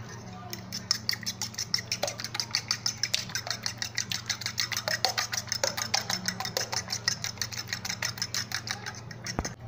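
Eggs being beaten with pepper in a bowl, a steady fast series of light clinking taps of a utensil against the bowl over a continuous low hum.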